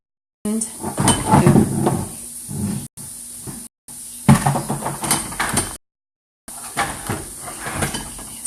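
A door is opened and closed several times nearby, with bumps, scrapes and hissy rattles coming in separate bursts broken by short silences.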